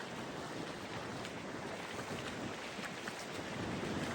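Out at sea, wind and waves make a faint, steady wash of broadband noise with no voices.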